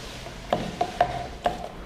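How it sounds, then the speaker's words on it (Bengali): A ruler stirs a liquid toilet cleaner mixture tinted with blue colouring, knocking against its container in four sharp, separate taps spread over the stretch, with quiet background in between. "স্কেল দিয়ে আমি নেড়ে দেখিয়ে দিচ্ছি।"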